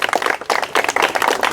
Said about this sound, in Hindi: चलिए बजाइएगा ताली।